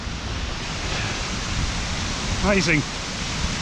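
The inner Skógafoss waterfall in Iceland rushes as a steady, broadband roar, with a voice briefly speaking over it partway through.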